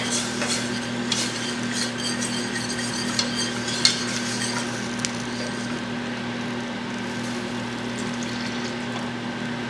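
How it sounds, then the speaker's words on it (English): A whisk stirs milk into a flour paste for a cream sauce for stuffed flounder with shrimp, giving a steady scraping swirl against the pan over a constant background hum, with a few light clinks, close and without talk. "And start stirring in a little at a time your milk."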